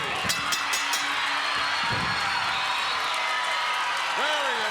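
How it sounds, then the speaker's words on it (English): Wrestling arena crowd applauding a tag-team win by Leaping Lanny Poffo and his partner at a WWF show, steady applause and cheering from a large audience, with a voice talking over it. "Applause galore for this fantastic combination right here of Leaping Lanny Poffo and CV Api"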